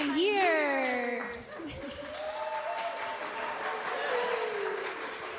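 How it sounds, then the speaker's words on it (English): An audience applauds and cheers at the Artesian in Regina, with broad clapping and rising voice-like whoops or whistles over steady crowd noise. "sounds like you've got a little bit of a crowd there at the Artesian"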